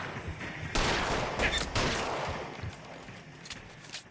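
Gunfire in the video game DOUBT: a dense, loud burst of rapid shots and crackling reports that fades into scattered echoing pops over about four seconds, with no talking.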